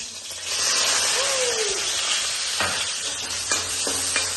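Onions sizzle steadily in a hot pan, a bright continuous frying hiss with a few soft scraping stirs and taps of a utensil near the end, close and clear.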